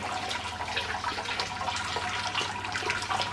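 Clear wort running steadily from the mash tun while brewing a Belgian-style saison with sea buckthorn, a continuous close trickle and splash of liquid with no talk.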